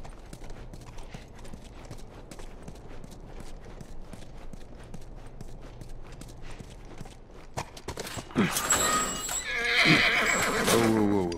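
In The Last of Us, horse hooves clip-clop in a steady walking rhythm, then a loud, close neigh breaks out near the end over rising background noise.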